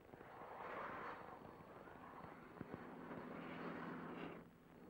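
An Alouette helicopter turbine whines and thrums at a distance during a supply drop on a Mont-Blanc expedition, a faint steady drone that swells twice with a sharp thump near the middle.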